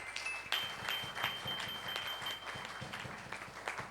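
Congregation applauding during a Sunday church service, a quiet, uneven patter of claps heard from a distance, with a few louder sharp claps standing out.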